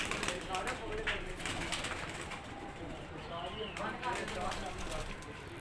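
Pigeons on a Rawalpindi rooftop coo and murmur nearby while a person talks over them, with occasional wing flutters and soft shuffling.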